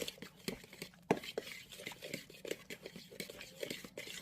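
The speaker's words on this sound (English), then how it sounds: "I'm just going to mix that into your mashed bananas" Melted salted butter stirred into mashed bananas in a bowl for banana bread, quiet wet squelching and soft scraping strokes in an uneven rhythm, close and faint.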